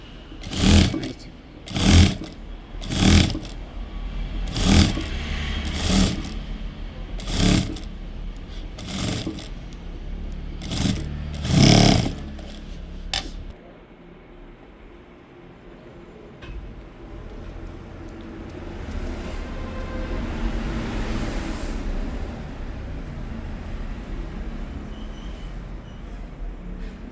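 A domestic sewing machine stitching a zip onto an umbrella cut kurti, running in repeated short rhythmic bursts with brief pauses, close and loud, then a quieter stretch of low background noise.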